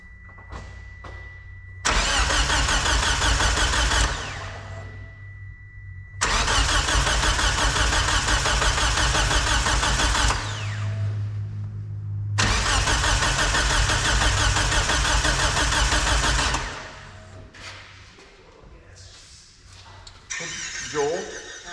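A Mitsubishi Eclipse engine is cranked after repair work, with three long, loud bursts of starter whirring separated by pauses, then faint clicks and a short final burst. People speak in the background.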